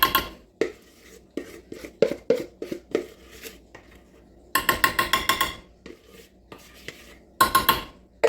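A spoon scrapes and knocks buttermilk cornbread batter from a bowl into a baking pan, making a string of irregular clinks and scraping strokes, some in quick bursts, close and fairly loud with no talking.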